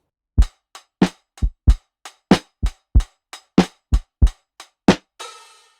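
A dry, punchy lo-fi drum loop preset from Addictive Drums 2 with tight kicks and snappy hits in a steady pattern, closing with a short cymbal crash that rings out.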